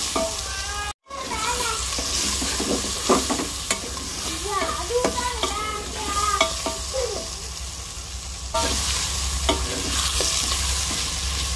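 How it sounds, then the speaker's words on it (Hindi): Mutton liver frying with ginger-garlic paste in a village-style pan, a continuous close sizzle with scraping stirs and clinks of a spoon against the pan throughout. "कलेजी फ्राई कर रही हूँ"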